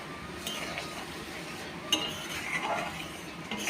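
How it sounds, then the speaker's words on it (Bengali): Rice pudding being stirred in a pot after sugar goes in, soft clinks and scrapes of a spoon against metal at a quiet, close level. "চিনি দিলাম। ভালো করে নেড়ে চেড়ে দেব।"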